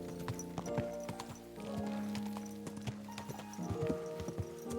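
Horse hooves clip-clopping on a road in the medieval game Kingdom Come: Deliverance II, a quick, irregular run of close, crisp hoofbeats over a faint background with no speech.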